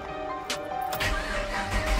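Engine of a 5th gen Chevrolet Camaro SS with no exhaust fitted, starting up with a crank and a rising rumble, fairly faint and nearby, no speech.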